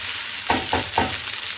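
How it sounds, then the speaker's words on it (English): Steady sizzling from a hot pan as onions cook down for a lamb naga curry, broken by three quick scraping stirs in an even rhythm. "the bubbling and the sizzling reduces"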